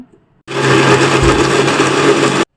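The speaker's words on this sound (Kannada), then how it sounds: "ಕ್ಲೋಸ್ ಮಾಡಿ ರುಬ್ಬೋಣ ಇವಾಗ" An electric mixer grinder blends fried ingredients into a fine paste, a loud, steady whirring whine that starts abruptly, runs for about two seconds and cuts off sharply.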